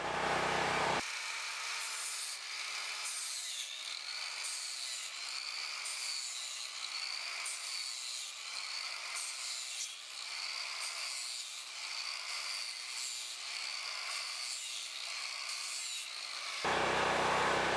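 A power sander whines continuously against a chainsaw-carved wooden hawk or eagle for most of the stretch, steady and close, with slight wavering pitch as it works.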